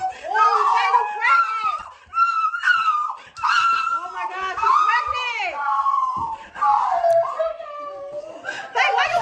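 A woman screams and shrieks repeatedly in high, strained bursts, with laughter and chatter from others mixed in, loud and close throughout.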